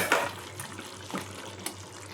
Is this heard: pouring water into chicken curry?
yes